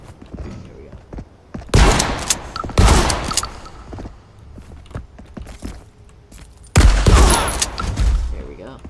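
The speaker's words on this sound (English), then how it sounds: "So we're gonna open the store and we're just gonna shoot him." Gunfire in the Marauders video game as an AI enemy is shot, three loud close bursts of rapid shots separated by quieter stretches of footsteps and movement.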